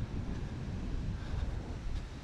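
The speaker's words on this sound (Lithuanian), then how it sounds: "Bet bangos tai nemažos." Sizable waves and wind on a Baltic beach in Poland make a constant low roar, with wind buffeting the microphone throughout and no voices.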